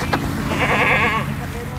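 Goats bleating on a small goat farm, a wavering call rising near the middle of the clip against steady low background noise, with a voice speaking faintly around it.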